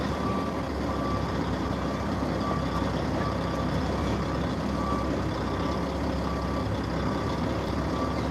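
A dump truck reverses with a steady loud diesel rumble and a continuous close engine drone; the backup beeps sit faint and hard to pick out beneath the noise.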